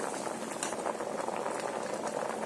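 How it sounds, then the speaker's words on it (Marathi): Potatoes boil in a pot of water, a steady, dense bubbling and rolling churn that stays even and moderately quiet from start to finish. "चांगली उकळी आली आहे आणि बटाटा पण चांगला शिजायला आलाय"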